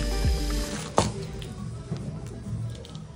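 Hand pressing a soft, wet mound of black-eyed bean vada batter makes faint, close squishing and dripping sounds, with one sharper tap partway through.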